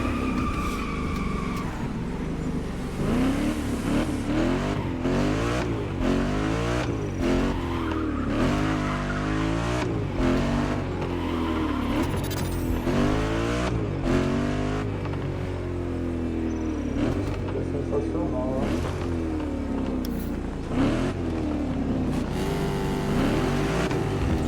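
Revving V8 engine in The Crew Motorfest racing game, a continuous loud roar with repeated rising and falling pitch sweeps as gears shift, tires squealing and music running underneath throughout.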